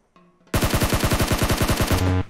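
Gunfire in the mobile game PUBG Mobile rattles out as a fast, loud automatic burst of about fifteen evenly spaced shots, preceded and followed by short electronic game tones.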